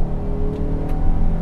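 The engine of a 2018 Honda Odyssey minivan with 280 brake horsepower hums and rises steadily as it accelerates, heard from inside the cabin, a smooth low drone with a faint whir over it.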